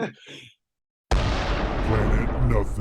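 After a voice and a brief silence, a sudden loud burst of booming explosions from the video game Battlefield 4 erupts and rolls on in a dense, continuous roar, as heard from another room.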